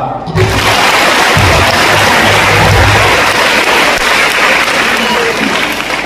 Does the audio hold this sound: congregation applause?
yes